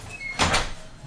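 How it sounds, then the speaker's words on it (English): A door shut at home, heard as one short close thump with a brief rattle and no talking. "Can you show mommy how you shut the door?"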